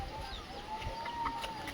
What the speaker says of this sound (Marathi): हे बघा कोंबड्या बघा